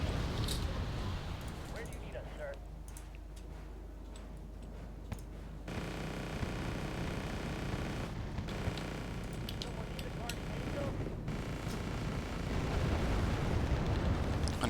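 Explosions from an F-18 airstrike on a BTR in the Wargame: Red Dragon video game sound as dull booms and crackling bursts over a rumbling battle bed, with voices heard.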